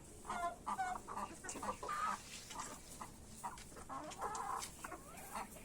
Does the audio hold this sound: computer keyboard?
no